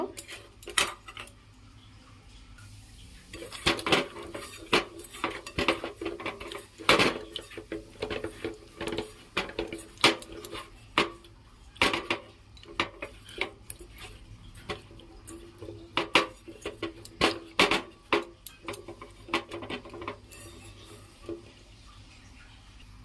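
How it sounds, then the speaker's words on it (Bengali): Fish mixed by hand with salt and raw oil in a bowl make continuous close, irregular clinks, taps and wet squelches against the bowl. "পরিমাণ মতন কাঁচা তেল দিয়ে দিচ্ছি এবার মাছগুলোকে ভালো করে"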